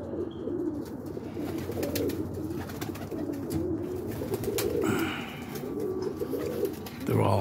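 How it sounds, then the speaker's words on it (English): A large flock of common pigeons cooing steadily on a rooftop around a kit box, soft overlapping coos with occasional wing flaps, close and continuous. "But there's hundreds of common pigeons."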